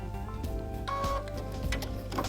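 Sewing machine running short bursts of satin stitches for raw edge applique, a close mechanical rattle with ticking steps and a steady motor hum underneath, no talking.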